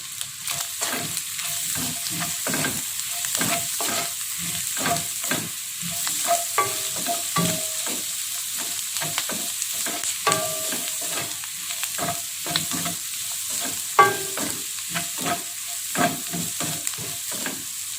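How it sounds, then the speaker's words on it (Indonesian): Repeated scraping and clinking of a utensil stirring tempeh with onion in a frying pan, with a soft sizzle underneath, steady and close, no talking. "ini kita aduk rata"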